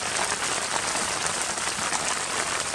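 Rain falls steadily on a mountain camp, a dense, even hiss of drops with no voices, close and continuous throughout.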